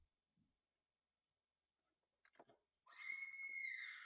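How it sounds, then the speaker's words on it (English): Windows system sound of people screaming, played through the speakers of a Packard Bell Multimedia D142 PC: a burst of shrill, sustained screams after a few faint knocks and a short rustle, loud and steady to the end. "So we have screaming people."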